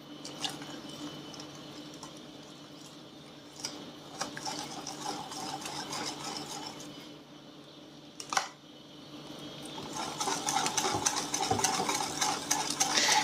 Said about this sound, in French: Parce que là, c'est le mixeur.